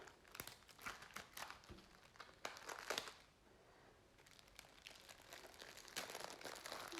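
Close, faint crinkling and tearing of plastic packaging as an AliExpress diamond painting kit is opened, with irregular rustling bursts throughout.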